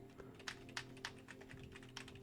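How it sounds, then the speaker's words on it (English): Keys on a computer keyboard clack in a sparse, irregular rhythm, recorded close through a FIFINE AM8 USB/XLR microphone, with a faint hum beneath and no talking. "You can definitely hear keyboard."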